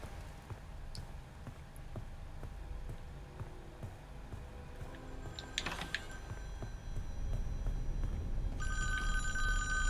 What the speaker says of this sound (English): The phone downstairs will start to ring.